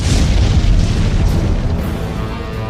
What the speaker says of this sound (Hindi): वक्त 6:45। पहला धमाका।